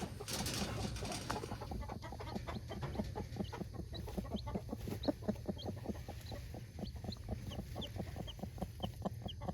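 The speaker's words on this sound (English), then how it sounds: "Instead, Egypt, go ahead and lift this broody hen up." Broody hen being lifted off her clutch of eggs, giving a rapid, steady series of short clucks repeated throughout over a low background hum, close and clear with no voices.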